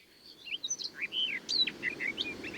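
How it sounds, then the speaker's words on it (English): A barred warbler gives bright, scratchy calls and chattering phrases in quick bursts over a low, steady background rumble, in dense thickets at a forest edge. "The barbed warbler, dwelling in the same biotope and preferring dense thickets on mid-forest clearings and roadsides"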